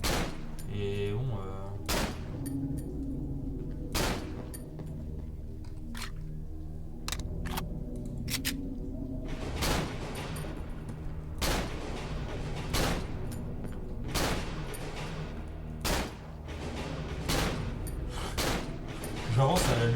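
Gunfire in the horror video game Cry of Fear: sharp, loud single shots ring out at irregular intervals over roughly twenty seconds, with a low ambient drone and someone talking underneath.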